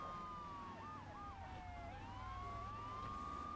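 A police car siren in the video game GTA III The Definitive Edition wails and yelps continuously in a muffled mix over a low engine rumble, with the pitch sweeping up and down.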